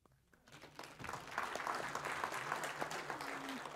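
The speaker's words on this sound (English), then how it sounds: "Can we applaud for them?" Baptist church congregation applauding, clapping rising from near quiet into a sustained, even round of many hands, moderately distant with a faint voice near the end.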